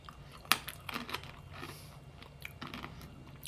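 Crunchy spicy-coated Japanese peanuts being bitten and chewed close by, with one sharp crack at the start followed by quieter, irregular crunching.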